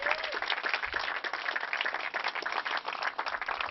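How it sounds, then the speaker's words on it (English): An audience at a rooftop student architecture awards ceremony gives the finalists a warm round of applause, continuous and full, with a faint voice briefly audible. "Let's give all of our finalists a warm round of applause."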